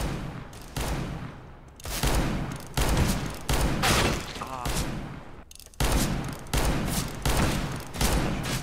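Revolver gunfire in Rainbow Six Siege, a series of loud, sharp shots spaced about a second apart, each with a broad crack and short tail over steady game background noise.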